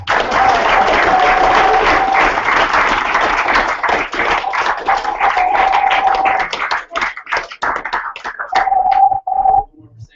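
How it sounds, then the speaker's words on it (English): A large audience breaks into a big round of applause at a marketing event, dense and loud clapping sustained for about seven seconds before thinning into scattered claps and a brief final surge. "So there's one more big round of applause"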